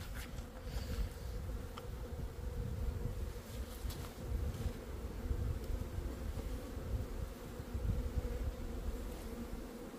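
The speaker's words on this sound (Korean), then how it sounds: "이쪽에는 벌이 있고 이쪽이 입구입니다. 벌이 드나드는" Honeybees stream in and out of a hive entrance at a high-altitude apiary in early May, a dense, steady buzzing drone filling the air close by with no voices.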